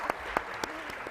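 Audience applause at an academic law conference plenary session, a steady crowd clapping texture with a few sharper claps standing out near the front, moderately loud and brief, with faint voices underneath.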